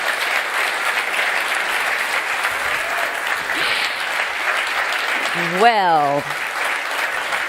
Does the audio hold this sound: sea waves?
no